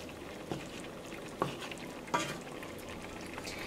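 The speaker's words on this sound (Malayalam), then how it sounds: "ഇനി നമുക്കൊന്ന് ചെറുതായിട്ടൊന്ന് ഇളക്കി കൊടുക്കാം." Salmon fish curry is stirred gently in a pan over a steady simmer, with a few soft scrapes and knocks from the spoon against a low continuous bubbling hiss.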